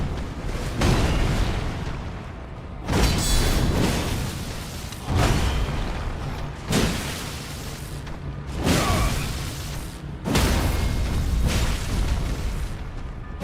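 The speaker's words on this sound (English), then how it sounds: "Explosion!" Explosions in Elden Ring erupt as a run of deep, rumbling booms, one about every two seconds, each swelling and fading into the next over a continuous roar.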